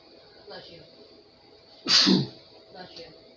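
A single loud, sharp sneeze bursts out near the close microphone against faint background murmur, with quiet talk-like sounds before and after it.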